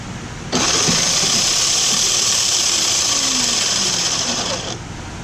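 A rewound Toyota Prius MG1 motor spinning under open-source inverter control: a steady, loud high-pitched electric whine that starts abruptly, holds for about four seconds, then stops, over a constant background hum.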